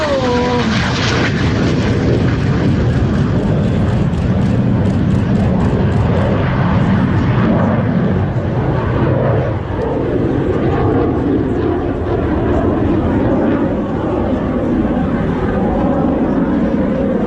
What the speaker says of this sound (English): Climbs like a rocket, that F-18 Hornet.